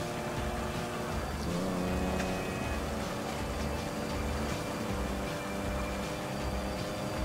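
A car driving hard through traffic in GTA 5, a steady engine roar with revving and shifting pitch, continuous and close, with faint traffic noise around it.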